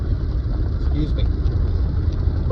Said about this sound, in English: I'm driving around the lakes right now